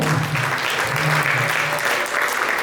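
Loud, sustained applause fills a hall at a book dedication conference as a guest is welcomed in, thick continuous clapping with a faint low voice or murmur underneath.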